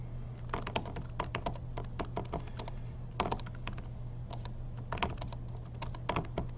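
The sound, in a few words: typing on a computer keyboard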